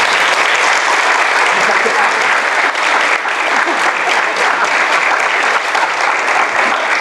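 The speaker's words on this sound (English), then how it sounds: "can we have a round of applause," Sustained audience applause from a crowd at a young-onset dementia talk, steady dense clapping throughout at an even loud level.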